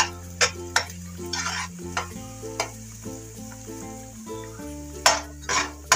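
Onions fry in oil in a pan for egg biryani, sizzling steadily close up while a spoon stirs and scrapes against the metal in repeated clinks and taps.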